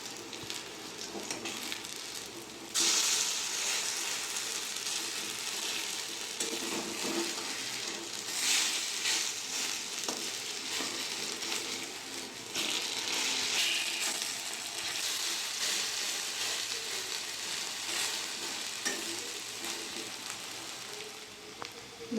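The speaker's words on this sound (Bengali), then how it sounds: "বড়াগুলো আমি উল্টে নেব" Shrimp fritters frying in a pan give off a faint, even crackle and hiss that runs continuously, with a few soft knocks, and no one speaks.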